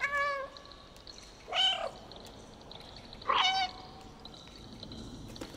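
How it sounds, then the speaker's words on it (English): Cat meows three times, a short higher cry followed by two louder drawn-out calls spaced a second or two apart, heard indoors and fairly close over a quiet background. "My cat just meowed."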